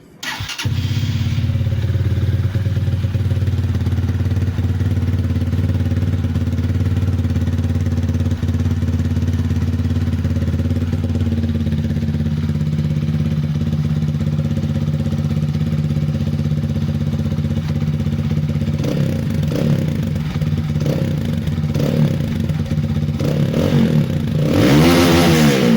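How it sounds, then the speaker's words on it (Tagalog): A Rusi Titan 250fi motorcycle on its stock exhaust starts up and idles with a steady, close rumble, then is blipped through several sharp revs toward the end. "Ito yung tunog ng stock ng Titan guys."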